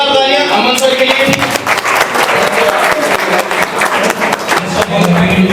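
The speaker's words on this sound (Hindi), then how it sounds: "एक बार जोरदार तालियां अमन सर के लिए।" An audience at a coaching-institute meet-up bursts into loud, sustained applause welcoming a maths teacher, with crisp dense clapping throughout and voices mixed in.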